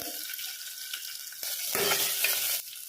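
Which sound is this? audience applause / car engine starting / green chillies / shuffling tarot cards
green chillies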